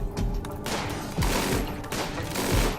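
Rapid, dense bursts of minigun fire from the video game Rimworld, a loud continuous rattle of shots with brief breaks between volleys, close and without any talking.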